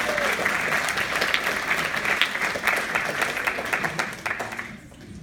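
A crowd applauds steadily with dense clapping and some cheering, fading out toward the end.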